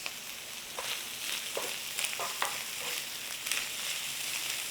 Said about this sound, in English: Let it catch. We want that nice dark sear on there.